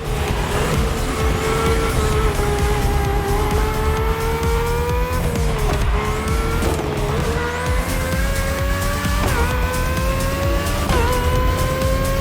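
Race cars in The Crew Motorfest video game roar continuously with rising engine whine through gear shifts and intermittent tire squeal, loud and close with no talking.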